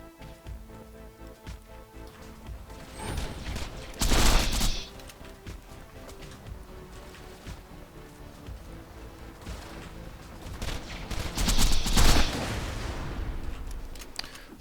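The Herald gun fires in Borderlands 2 at Digistruct Peak as two dense bursts of rapid shots several seconds apart, set among quieter game noise and scattered smaller pops.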